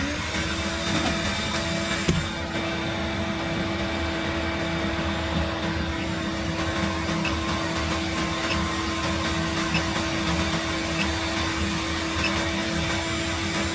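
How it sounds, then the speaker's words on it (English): A large shop vac and a heat gun drone together in a loud, continuous steady whine, powered through an inverter by a 12V 100Ah LiFePO4 heated lithium battery, close by, with a brief click near the start and no talking. "Now we're going to try that same large shop vac and a heat gun."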